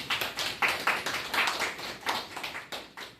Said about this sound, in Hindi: सर के लिए एक तालियां फिर से मार सकते हैं।